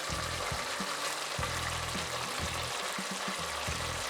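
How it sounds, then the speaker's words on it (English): Pork stew with coriander and parsley simmers in a pot with a soft continuous bubbling sizzle, broken by several low stirring knocks, no voices. "I'm just gonna mix it up, not much because I don't like mixing stew when it's cooking."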